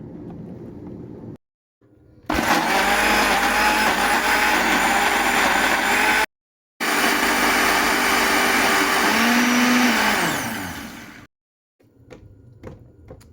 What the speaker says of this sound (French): Je vais tous les mixer sauf le piment.